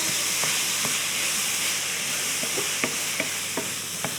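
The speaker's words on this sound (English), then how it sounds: "And you just quickly saute them until they soften too." Onions sauté in a pan for a Greek dish, a steady close sizzle broken by a run of light, evenly spaced knocks and scrapes from stirring near the end.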